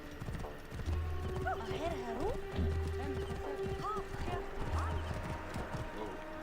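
Rhythmic clip-clop of horse hooves galloping in the video game Curse of the Pharaoh, with a horse whinnying over a busy game soundtrack; a voice talks at times.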